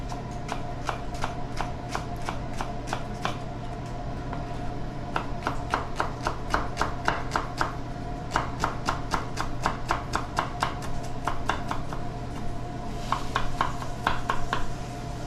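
A knife chops a shallot on a cutting board in quick, sharp, evenly spaced taps, close and crisp over a steady kitchen hum, with brief pauses between bursts.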